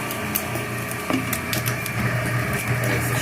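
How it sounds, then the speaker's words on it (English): Powerful meat grinder chewing through meat, a steady loud motor drone with irregular crunching and knocking as pieces are forced through, close up with no talking. "You just throw the meat in. It grinds up everything."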